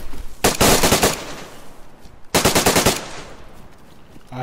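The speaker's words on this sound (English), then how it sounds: "somebody shooting at me" Rapid automatic gunfire in a shooter video game comes in two loud bursts of roughly half a second each, separated by a short lull.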